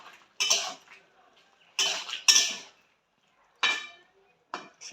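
A metal pot lid is lifted during cooking of a prawn curry with potato, radish and eggplant, giving several separate sharp clanks and clatters with quiet gaps between them.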